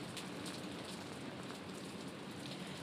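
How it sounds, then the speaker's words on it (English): Rain on Tybee Island during Hurricane Irma, heard as a dense, steady hiss of heavy rainfall with a broad roar of wind-driven water and no break, loud throughout. "as she's standing in the rain"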